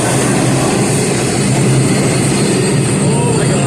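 A New York subway 2 train pulling into a station at rush hour, a loud, close, continuous rumble with rail noise filling the platform.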